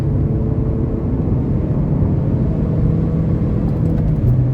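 Engine of a 2008 Honda Civic LX with a manual gearbox pulling through the gears, a steady, loud low drone and rumble from inside the car, with no one talking over it.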